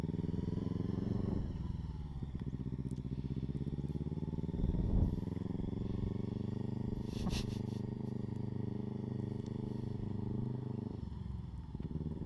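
Motorbike engine running in first gear, ridden by a learner, with a loud, close, continuous putter and steady harmonic drone, small dips as the throttle eases, running alone without talk.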